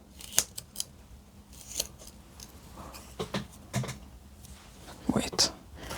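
Sharp snips and small clicks from a knife or cutting tool trimming a root from a Monstera Thai plant with root rot, a few scattered cuts and handling noises up close, with a voice talking at times.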